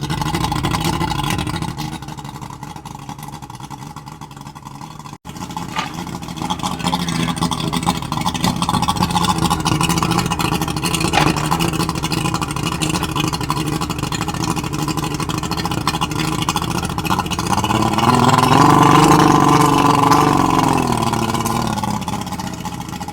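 An old, long-neglected boat engine runs steadily close by, a rough continuous motor drone that swells louder and revs briefly near the end, with no talking over it.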